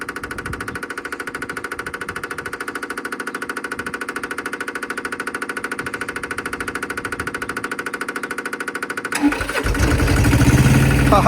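A truck engine, run without coolant and fed off its fuel filter, cranks with a steady rapid rhythmic chugging for several seconds, then catches and roars into a louder, rougher running sound.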